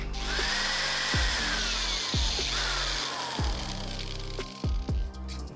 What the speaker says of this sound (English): I'm gonna drill this out real quick